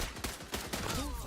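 Pistol fire in XDefiant, several quick sharp shots in an irregular burst across about a second, close and punchy, with game effects ringing underneath.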